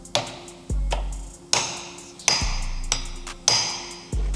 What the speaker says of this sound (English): Your hammer and your punch, right in the middle, the plate's gonna hold it straight.